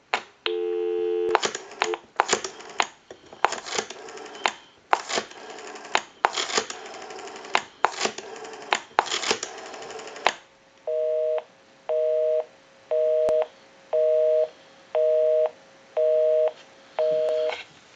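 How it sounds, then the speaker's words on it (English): Rotary Western Electric 5302 desk telephone: a run of dial clicks and dial tone bursts gives way to a loud, steady busy signal, eight evenly spaced beeping pulses heard up close with no voices. "We can call my number and it'll be busy."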